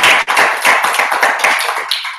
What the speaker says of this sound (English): Quick round of applause for our president, Andres, everyone.